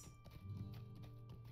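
Horse hooves clip-clop at a steady trotting rhythm while riding in the online game Lord of the Rings Online, faint and low against a quiet background with a soft whinny-like tone.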